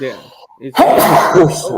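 A person sneezes during a conversation, a sudden loud burst that follows brief speech and holds for about a second before fading.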